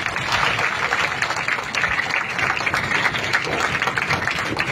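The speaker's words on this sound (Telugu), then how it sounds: "అందరూ గట్టిగా హరీష్ అన్న కోసం చప్పట్లు కొట్టాలి." A crowd at a school event claps loudly and steadily throughout, a dense continuous round of applause with no voices standing out.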